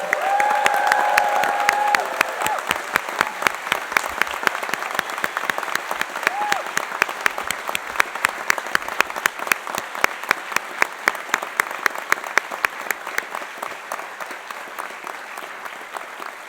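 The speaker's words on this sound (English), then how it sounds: "one final rousing round of applause for our graduates" Large crowd applauding graduates continuously at a university engineering graduation ceremony, with a few loud rhythmic claps standing out near the microphone and faint cheering early on.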